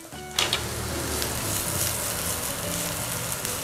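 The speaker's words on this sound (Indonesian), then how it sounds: "Sekarang kita mau tumis bombay." Onion sautéed in leftover oil from frying an omelet sizzles in a pan, a loud close hiss starting abruptly as it hits the hot oil and continuing steadily, with faint stirring.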